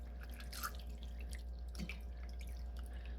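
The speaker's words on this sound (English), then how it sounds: "the next step is you're going to pour in 1 cup of pickle juice" Dill pickle juice is poured over raw chicken tenders in a kitchen, a faint, quiet liquid trickle and drip over a low steady hum, with no talking.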